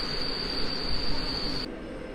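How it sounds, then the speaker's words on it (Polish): A train pulls in at platform seven of Warszawa Zachodnia station at night, with a steady high-pitched whine over a low continuous rumble that cuts off abruptly near the end. "Skład wjeżdża na tor przy peronie siódmym."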